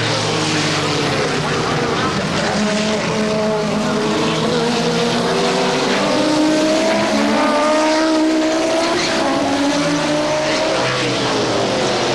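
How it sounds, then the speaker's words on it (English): A four-wheel-drive Audi Quattro race car competing in late-1980s US racing, its loud engine rising and falling steadily as it passes, with a commentator talking over it. "He's got the back front end of that 4-wheel drive Audi Quattro."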